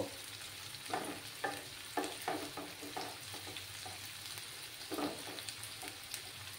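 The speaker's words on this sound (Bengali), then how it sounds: "পেঁয়াজগুলোকে একটু লাল লাল করে আমি ভেজে নেব।" Onions fry in a pan until browning, a quiet continuous sizzle punctuated by repeated rhythmic stirring scrapes of the spatula.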